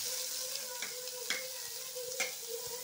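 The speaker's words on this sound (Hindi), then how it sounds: "डालते हैं इसमें प्याज।" Onion dropped into hot oil already holding cumin seeds and green chilli, frying into a steady close sizzle broken by a few sharp scrapes of a spoon stirring the pan, with no talking.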